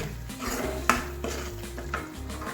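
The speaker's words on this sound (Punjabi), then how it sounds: "ਆਪਾਂ ਹੁਣ ਇਹਦੇ ਵਿੱਚ ਟਮਾਟਰ ਦੀ ਪਿਊਰੀ ਐਡ ਕਰ ਰਹੇ ਹਾਂਗੇ" Tomato puree goes into a pan for shahi paneer, with a sharp metallic clank of a utensil on the pan, a few lighter clinks and scrapes, and a soft sizzle and low hum underneath.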